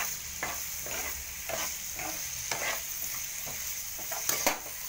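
Rice fries with salt in a tempering for Maggi rice, a constant sizzle broken by regular scraping strokes of a spoon stirring through the pan.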